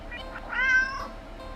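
A cat in the game Do Not Take This Cat Home gives a single clear, fairly close meow mid-clip over a quiet background, with no talking.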